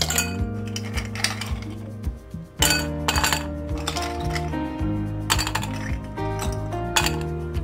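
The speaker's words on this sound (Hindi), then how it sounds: "तो एक गिलास में हम डाल देंगे आइस क्यूब्स" Ice cubes tumble into a drinking glass, clinking and rattling in several quick bursts of bright knocks, close by and with no talking.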